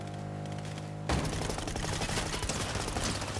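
Fortnite duos match: after a second of steady game music, dense rapid gunfire bursts in loud and close, a continuous fusillade of overlapping shots that runs to the end.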